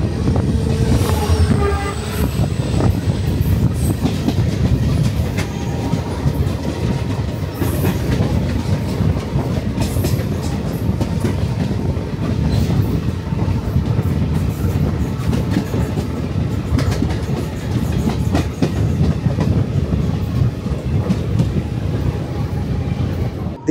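Jaisalmer Express train running on rails in Rajasthan, a loud continuous rumble with rhythmic clickety-clack of wheels over rail joints and a brief horn toot near the start.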